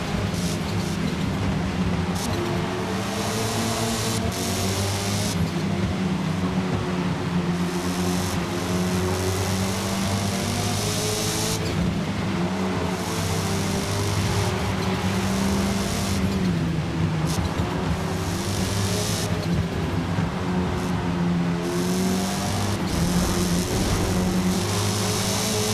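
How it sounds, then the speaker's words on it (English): Touring cars race in a video game, an Audi and a Volkswagen running just ahead, with loud continuous engine roar, shifting revs and gear changes sustained throughout. "So up in front of us, Connor has an Audi, and the other driver is in the Volkswagen."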